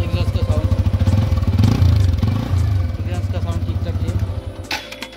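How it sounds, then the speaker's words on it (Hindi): A TVS Apache RTR 160 2V BS6 motorcycle exhaust putters in a steady rhythmic idle, swelling briefly with a rev before settling, with a voice talking over it. "एग्जॉस्ट का साउंड सुन लिया"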